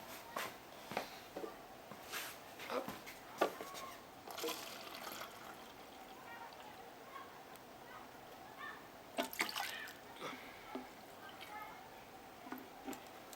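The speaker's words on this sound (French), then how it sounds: "Je vais la remplir d'eau." A plastic bottle is filled with water for a home science experiment on floating objects. The filling makes a faint trickling and splashing with scattered light knocks, and soft voices are heard in the background.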